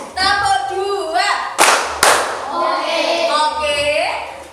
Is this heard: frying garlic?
no